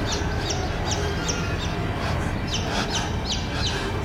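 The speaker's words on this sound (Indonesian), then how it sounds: "di dalam kamarku itu terdengar suara anak ayam." Baby chicks peep in a radio drama sound effect, a run of short, high, repeated chirps over a dense steady background hum, at moderate loudness with no talk.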